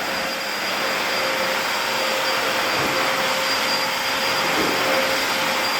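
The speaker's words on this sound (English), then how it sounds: "We use a backpack vacuum." A backpack vacuum runs continuously on a tiled floor with grout lines, a loud, steady broadband whoosh with a faint high whine and no pauses.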